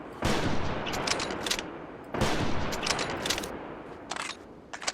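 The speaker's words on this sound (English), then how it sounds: "I should stick to the rifle first and foremost, because I didn't even hit a single one of those shots" Rifle shots fired in the hunting video game Prehistoric Hunt: two loud, sharp reports about two seconds apart, each with a long rolling echo tail and faint clicks between them.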